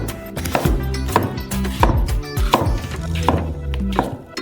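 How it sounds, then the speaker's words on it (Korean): A knife slices through peeled, ripe melon flesh on a cutting board, with repeated firm chopping thunks at a steady rhythm, close and fairly loud. "순수한 멜론 과육을 썰어주세요."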